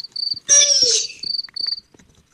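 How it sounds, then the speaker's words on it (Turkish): Shrill, rapid cricket chirps pulse in short bursts, briefly interrupted by a louder whooshing, squealing noise before the chirping resumes. "Cırcır cır böceği sesi açtım."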